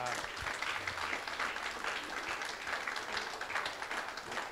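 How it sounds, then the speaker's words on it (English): A town hall audience applauds with dense, continuous clapping that holds steady and fairly loud throughout. "I'd just like to give her a round of applause right now."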